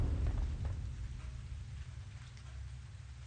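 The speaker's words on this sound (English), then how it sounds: "Where's this rain coming from?" Rain falls in a video game as a steady, soft hiss with a low rumbling undertone, fairly faint and continuous throughout.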